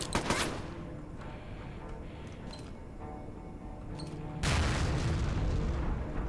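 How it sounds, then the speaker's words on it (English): Grenade explosions from the first-person shooter video game Acythian: Renegade: a brief blast at the start, then a heavy boom with a sustained rumbling tail near the end, over a background game soundscape. "Some grenades. Nice, let's use them."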